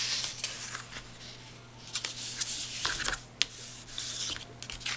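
Close paper handling as paw-print paper strips for a handmade card are folded, with soft rustles, creases and sharp little crackles in an irregular rhythm.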